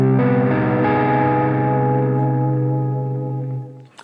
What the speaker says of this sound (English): Probably the most harmonic minor type of chord you can find out there is a minor major 7 chord